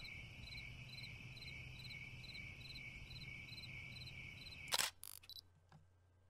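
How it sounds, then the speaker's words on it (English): Crickets chirp in the video game We Become What We Behold, a steady rhythmic pulsing loop that is faint and even, then ends abruptly in a couple of sharp clicks and near silence. "Crickets?"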